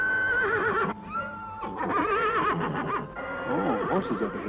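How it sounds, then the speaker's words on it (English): A horse neighs loudly and repeatedly nearby, with shaky, wavering whinnies coming in quick bursts over several seconds. "Oh, horses up ahead, huh?"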